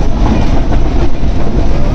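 A train running along the railway near Khairpur station on the Rehman Baba Express, with a steady loud rumble and rhythmic wheel clatter from inside the carriage, continuous throughout.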